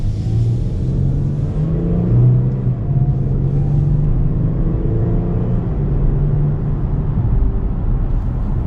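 Hong Qi HS7 SUV with a 337 hp V6 engine accelerating, a steady, loud low engine rumble that builds gently and holds throughout with no voices.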